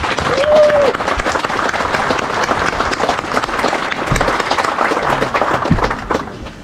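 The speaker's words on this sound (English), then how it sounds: "How about a round of applause?" Crowd applause at a community flag-raising honor ceremony for fallen firefighters, with American Legion members present; steady, dense outdoor clapping that holds for several seconds, a brief whistle near the start, then tapers off at the end.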